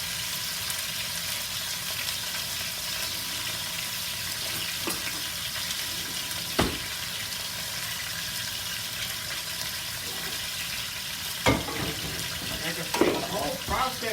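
A pot roast browns in a hot pan, a steady loud sizzle and crackle running throughout with a few sharp pops and clatters near the end.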